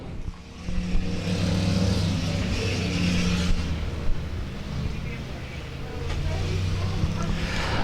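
Race cars pull away at the start of a race at South Texas Speedway, a broad steady roar of many engines with a droning low hum, heard from a distance under an announcer's commentary.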